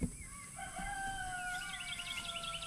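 A rooster crows once nearby, a drawn-out, wavering call over faint background hum, with a few hen clucks mixed in toward the end.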